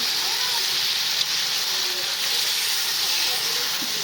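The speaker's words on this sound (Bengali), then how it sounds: "এখানে ভুনা খিচুড়ির জন্য চাউল ভাজা হচ্ছে" Rice sizzles and hisses steadily in a hot pan as it fries for bhuna khichuri at a village picnic, an even close-up frying sound with no pauses.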